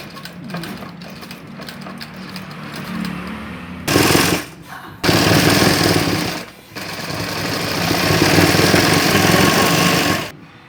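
Stitching baby shorts fabric, a sewing machine runs in loud, close bursts, with a short gap and a longer steady run near the end, rattling with a rapid mechanical chatter and no voices.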